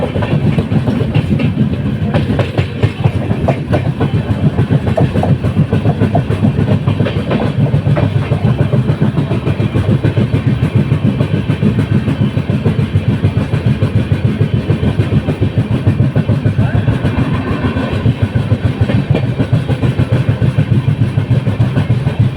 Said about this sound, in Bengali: আমাদের ট্রেন এই মুহূর্তে ছেড়ে বেরোচ্ছে